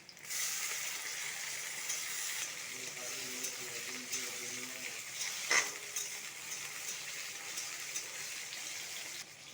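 Chopped tomato goes into a pan of browned onions frying in oil, raising a steady soft sizzle with the light scrape of stirring and one brief clatter partway through.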